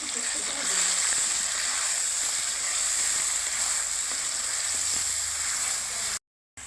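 Oil sizzles and spatters steadily in a pan as it heats for an egg dish, a continuous bright hiss with light crackles throughout that cuts off abruptly near the end.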